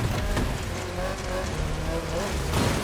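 Lancia Rally 037 rally car in the racing game The Crew Motorfest, its tires skidding as the rear end steps out after an early turn-in, a steady loud engine and scrub noise running through the whole short stretch.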